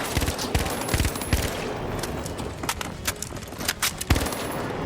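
FAMAS rifle gunfire in the video game The Finals, sharp repeated shots in quick bursts and single cracks, fairly loud and close, mixed with other in-game noise and no talking over it.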